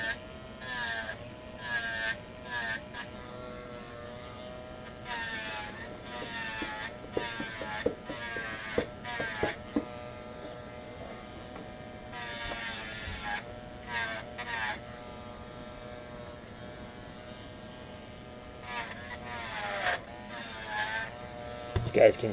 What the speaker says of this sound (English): You guys can see I'm grinding the little pan part out there